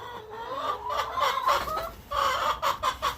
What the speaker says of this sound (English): I'm not going to chase a bunch of chickens and stress them unnecessarily